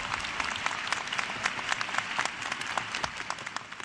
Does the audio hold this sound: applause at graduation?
yes